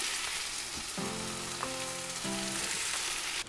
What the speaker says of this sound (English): In go some onions.